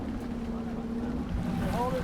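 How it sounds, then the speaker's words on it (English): Boat engines at a dive site rev with a low steady drone and a rising whine near the end, mixed with wind and water noise. "the captain revs the boat's engines"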